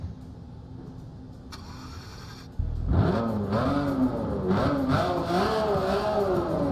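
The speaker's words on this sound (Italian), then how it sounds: "accendiamo il motore" A Lotus Elise GT1 in Forza Motorsport 7: a quiet starter whine, then the engine fires with a loud low bark and settles into a rumbling idle broken by several sharp revs.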